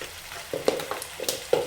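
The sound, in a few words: stirring chili powder into frying curry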